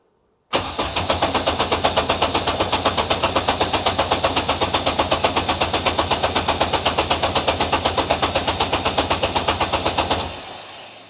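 Engine cranked on the starter button to build oil pressure, a loud rapid rhythmic churning that runs steadily for about ten seconds without catching, then stops.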